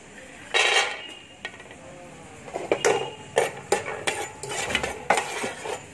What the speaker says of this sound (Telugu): పచ్చిశనగపప్పు, ఎల్లుల్లిపాయలు ఇవన్నీ దోరగా వేపేసుకుందాం.